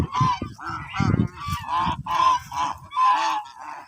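Domestic geese honk close by in a quick run of loud, nasal calls, several birds overlapping in short bursts.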